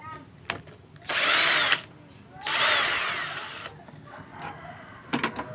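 A power drill whirs in two loud, sustained bursts as screws come out of a turbo electric fan that has power but won't spin, followed by brief clicks and handling.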